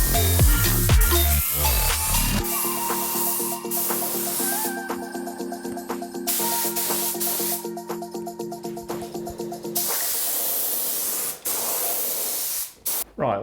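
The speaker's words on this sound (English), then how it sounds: "let's give it a spray and see how it turns out" A steady, loud hiss of spray paint on a car body panel runs continuously with faint mechanical tones and clicks underneath, briefly changing before resuming.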